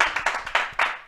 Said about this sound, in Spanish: un aplauso grandísimo para Mónica